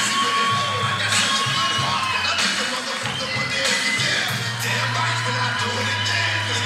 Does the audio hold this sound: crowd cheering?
yes